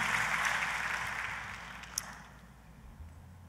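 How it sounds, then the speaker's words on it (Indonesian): A worship congregation claps enthusiastically in a church service, dense applause strongest at the start then gradually fading, with a brief sharp clap near the end and a low hum beneath. "tepuk tangannya sekali lagi yang paling meriah buat Tuhan kita."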